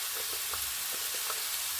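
Whole spices and ground turmeric, red chilli, meat masala and cumin-coriander powder fry in hot oil in a pan for Assamese aloo dum, giving a steady, soft sizzle with faint stirring clicks throughout.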